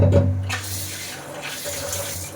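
Water gushes from a kitchen tap while fish is being cooked, a steady close hiss with a stronger splash at the start that settles into an even flow.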